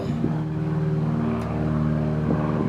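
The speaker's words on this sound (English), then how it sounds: "Kind of neat to hear the little planes." A continuous low propeller drone of a small plane from a nearby municipal airport passing overhead, steady and fairly loud throughout with no voices.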